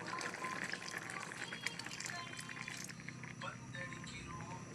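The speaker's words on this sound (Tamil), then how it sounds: "தண்ணி பாலோட நாங்கள் அரைச்சி வச்சுருந்த முதலாம் பால் சேர்க்க போகிறோம்." Ground milk pours into a pot of cooked lentils and ridge gourd, making a soft, continuous liquid splashing and trickling. The pouring sits quietly under a person's talking.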